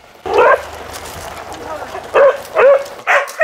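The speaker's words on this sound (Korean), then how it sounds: "마당으로 들어오는 트럭에 테리가 예민하게 반응합니다" A border collie barks repeatedly at a delivery truck arriving in the yard of a countryside home, with one loud bark, a pause over a low rumble, then a rapid burst of close, excited barks.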